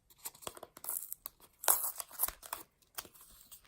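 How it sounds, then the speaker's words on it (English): Tape is peeled off fabric close by in irregular bursts of tearing and crinkling, with a louder strip pulled away in the middle and quiet gaps between, no talking. "Maybe I should just take this tape off"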